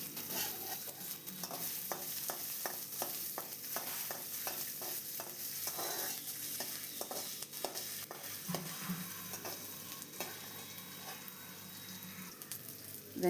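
Finely chopped onion sizzles and fries in a pan, with repeated scraping stirs over a steady crackle, fairly faint and with no talk.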